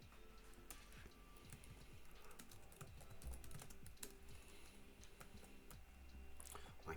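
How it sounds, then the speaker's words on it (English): Rapid clicking keystrokes on a faulty computer keyboard, some keys not working, in a steady uneven stream of taps. Quiet and close, with no speech. "My keyboard is broken. I need a new one relative."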